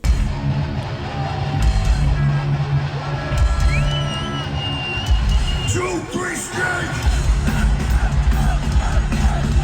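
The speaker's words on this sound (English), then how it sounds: "Okay, the crowd's getting into it now." A concert crowd at a show yelling and whooping, loud and mixed with music and a rising sustained tone.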